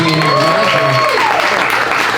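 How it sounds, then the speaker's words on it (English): Audience clapping for moms at a live LA speaking event, a dense steady burst of applause filling the space while voices talk over it. "clap it up for moms, man."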